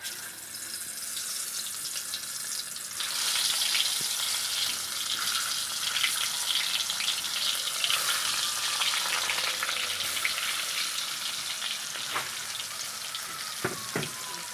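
Potatoes, mashed and rested, frying in a pan for a Bengali potato and prawn dish give a steady, close, continuous sizzle with a few faint clinks of a utensil, and no one speaks.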